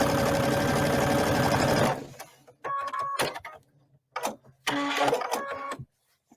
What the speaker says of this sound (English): I'm just going to sew 1/4 of an inch